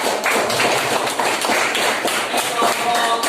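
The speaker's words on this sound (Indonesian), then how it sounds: "Ya, kasih aplaus buat kelompok" Applause for a group in a vocational school classroom session, a dense stretch of steady clapping from many hands filling the whole moment with no pause.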